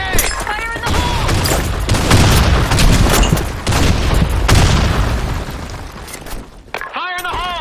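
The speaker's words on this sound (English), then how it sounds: "Grenade! Fire in the hole!" Grenade explosions and rapid gunfire in a video game firefight, loud booms and crackling volleys piling into a dense continuous barrage, with shouted voice callouts over the top and near the end.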